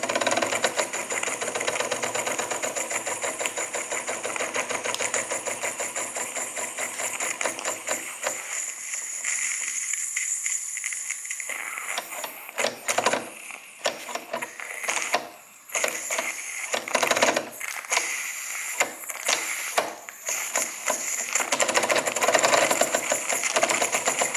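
A Jensen Model 75 toy steam engine runs with a busy, rhythmic mechanical clatter and chuffing that briefly drops and thins partway, then returns to a brisk, uneven ticking beat.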